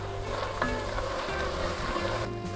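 Onions and flour cooking in a pot for boeuf bourguignon, a steady close sizzle with a faint low hum underneath and a brief stirring knock.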